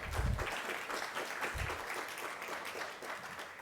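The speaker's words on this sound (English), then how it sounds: "Applause. There you go." Applause from the audience at a summit after the tech crew is thanked, a dense, steady wash of clapping across the room with low thumps early on.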